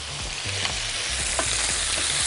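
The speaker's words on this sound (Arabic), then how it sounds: "تعالوا نشوح كده كله" Chicken and onions sautéing in a pan, a loud close sizzle with quick stirring scrapes over it, brief and steady.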